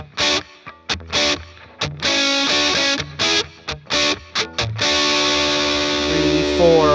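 An electric guitar played through a RAT distortion pedal chugs out short, choppy bursts of crunchy distorted chords with gaps between them, then rings out into a sustained, dense distorted chord over the final seconds.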